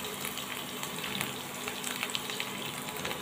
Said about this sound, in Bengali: সব মশলাগুলোকে একসাথে কষিয়ে নেব, যাতে আদা রসুনের গন্ধটা চলে যায়